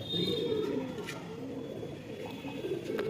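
Quiet, low cooing from a tournament low-flyer pigeon in a loft, with soft warbling calls repeating over faint background murmur and a few light chirps.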